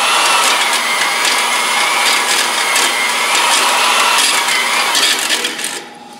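A hone works inside an engine block cylinder with a loud, steady abrasive whirring and scraping that runs close and continuous, then drops away at the end.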